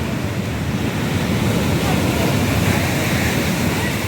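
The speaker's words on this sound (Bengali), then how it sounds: "সাংঘাতিক ঢেউ, সমুদ্রের উত্তাল সমুদ্র দীঘার" Rough, high sea waves at Digha beach after Cyclone Remal crash and roar continuously and loudly at close range, with heavy wind buffeting the microphone throughout.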